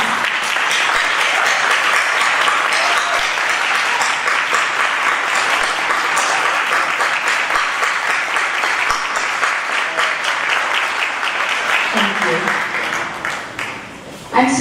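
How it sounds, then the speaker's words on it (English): Sustained applause from a graduation audience at a Montessori middle school ceremony, loud and steady for about twelve seconds before it fades and a voice begins. "Can you stand up and give them an applause?"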